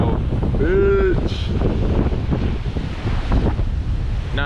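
Strong wind buffeting a microphone on a beach, a loud continuous roar with surf beneath it, joined by brief voices.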